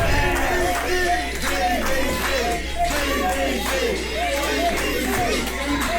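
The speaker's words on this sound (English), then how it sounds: "This capacity crowd here at Little's Cafe," A capacity crowd at Little's Cafe during a wrestling bash makes a dense, loud roar of cheering and chatter with overlapping voices throughout.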